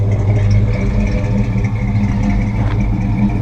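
Engine of a 1978 Chevrolet C10 short bed with Flowmaster 3-inch dual exhaust idles with a steady, loud low rumble and light mechanical clatter, heard close and without talk.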